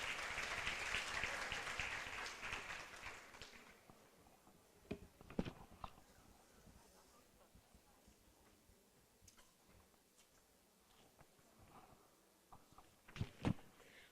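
Audience applause at an education forum, a crowd clapping for about four seconds before it fades into scattered claps, footsteps and light room noise, with a brief burst of claps near the end.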